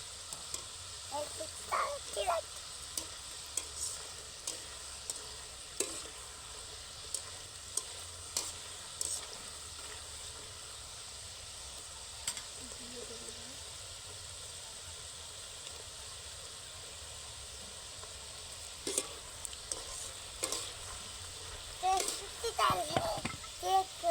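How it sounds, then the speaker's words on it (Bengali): Nimki dough snacks fry gently in oil over low heat, a soft steady sizzle with intermittent stirring scrapes and clinks, and talk comes in now and then. "লাল লাল করে ভেজে নেব আচ্ছা। অবশ্যই হালকা আঁচে ভাজতে হবে"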